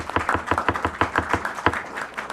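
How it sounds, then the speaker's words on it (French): Applause rolls through a lawyers' swearing-in ceremony, a crowd clapping steadily with dense, rapid claps at moderate loudness, heard alone without talk. "j'invite sous vos applaudissements respectueusement l'honorable maître Bekens Louis-Saint."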